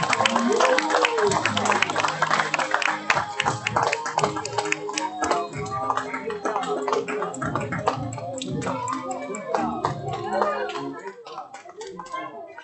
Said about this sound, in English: Big round of applause for Dorji Lauscher's homeroom